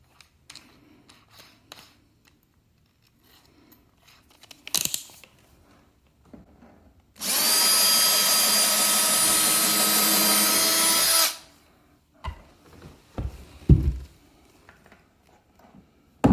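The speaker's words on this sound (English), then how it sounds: "Bigger nail, bigger drill." Power drill boring into a skirting board: a loud, steady whirring burst of about four seconds, preceded and followed by quieter clicks, taps and handling noises.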